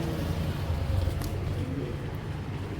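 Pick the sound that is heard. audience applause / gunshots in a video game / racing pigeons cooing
racing pigeons cooing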